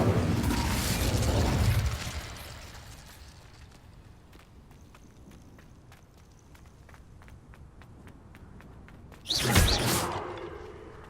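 The Incendio fire spell is cast in Hogwarts Legacy with a roaring whoosh and burst at the start. A quieter stretch of light clicks and taps follows, then a second loud fiery blast near the end.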